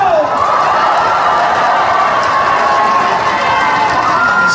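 A festival crowd at a singer's outdoor celebration concert roars and claps together in a dense, sustained wash of cheering and applause, loud and continuous throughout.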